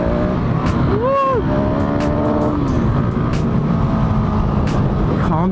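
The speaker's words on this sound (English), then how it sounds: "Calm down, second gear wheelies." A 2018 Husqvarna 701 Supermoto roars close by in second gear during wheelies, its single-cylinder engine droning with rising and falling pitch sweeps and wind buffeting.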